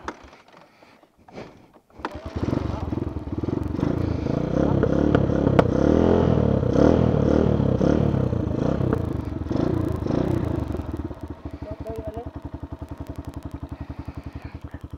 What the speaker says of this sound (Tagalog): buo na ulit ang motor ni Royce